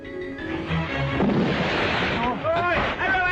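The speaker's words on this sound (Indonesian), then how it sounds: "Siang-siang bakar petasan" Firecrackers being set off in daytime during a film shoot, a dense crackling, booming blast that fills the whole span at close range, with voices underneath.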